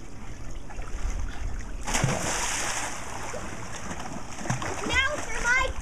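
A child splashing while swimming in water, a burst of broad splashing that rises midway and continues under a voice and other talk.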